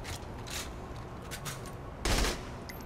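Gatling gun fire in Saints Row: The Third comes as quick rattling bursts at moderate volume, with a heavier, louder volley near the end over a low background rumble.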